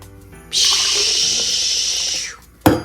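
Freshly brewed coffee pours in a steady stream for about two seconds, a smooth rushing splash that tapers off, followed by a short sharp knock.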